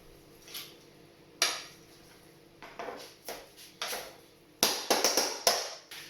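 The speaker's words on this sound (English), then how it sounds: "Add a bit of butter into this. Say about 2 tablespoons. Then just give this a really good mash together." Carrot and swede being mashed with butter, a series of soft thuds and clinks of a masher against a pot, irregular and close, growing busier toward the end.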